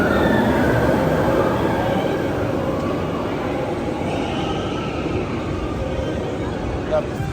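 The Tron Lightcycle roller coaster at Magic Kingdom rushing past, heard as a loud sustained rumbling roar of rolling wheels with a rising whine, crowd noise and voices underneath.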